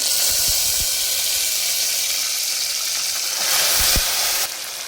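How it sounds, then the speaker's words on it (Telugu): Hot oil tempering hisses and sizzles loudly as Telangana-style toor dal rasam is poured in, a steady close frying roar with a few soft knocks and a brief swell near the end. "పోపు అయితే బాగా వేగిపోయింది కదా ఇప్పుడైతే ఇందులోకి మనం పప్పుచారు అయితే వేసేసుకుందాం"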